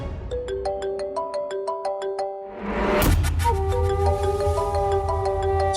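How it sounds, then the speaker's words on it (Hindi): A melodic phone ringtone plays clearly in a Hindi TV serial scene, a repeating chime-like tune that pauses briefly, then resumes louder over a low hum, with no talking. "ये तो गुल्की का फोन है।"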